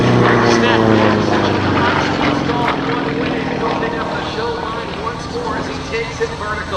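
A Sukhoi SU-31 aerobatic plane performs high-speed snap rolls at an MCAS Cherry Point air show, its propeller engine giving a loud, buzzing drone with wavering pitch that slowly fades, under an announcer's commentary.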